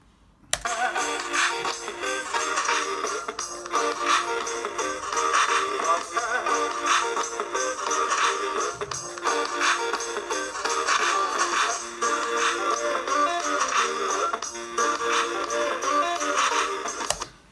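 A sampled synth loop with drums layered on top plays steadily and continuously at moderate loudness, with no talking.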